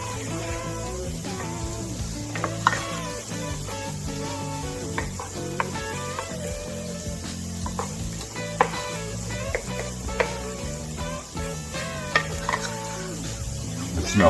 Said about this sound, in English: go ahead and stir it around, incorporate it with the onions